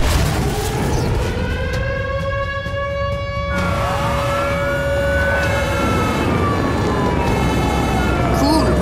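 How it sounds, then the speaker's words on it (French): Several fire engine sirens wail together in rising and falling sweeps, steady and fairly loud throughout, with a busy background of other noise. "regardez, il y a plein de voitures de pompiers"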